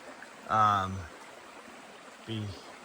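River water on the Appalachian Trail, running high after flooding, makes a steady, soft rushing wash throughout. Two short bursts of a person's voice rise briefly over it.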